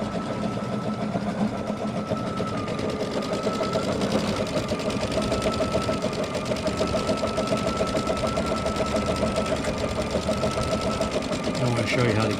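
An embroidery sewing machine quilts a block in the hoop, its needle hammering in a fast, even, continuous mechanical chatter, close and steady from start to finish, while someone talks over it.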